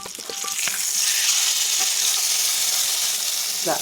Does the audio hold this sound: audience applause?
no